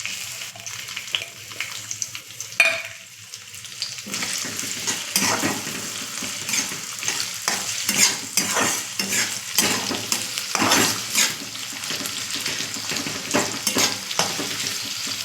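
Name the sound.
frying onion in a pan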